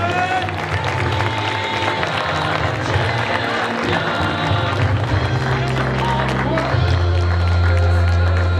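An audience applauds the winners of a French Cup bouldering climbing competition final in Chaumont, with sustained clapping and cheering from a sizable crowd filling the hall, steady and fairly loud.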